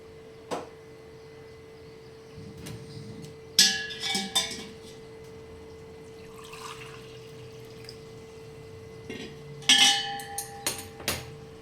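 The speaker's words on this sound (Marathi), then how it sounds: "चला आता आपल्या भाजीत हे पाणी टाकून घेऊया" Water splashes briefly into a pan of fenugreek leaf vegetables amid clinking pots and utensils, in two short bursts over a steady low kitchen hum.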